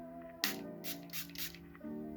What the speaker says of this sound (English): I am going to apply a setting spray on the brush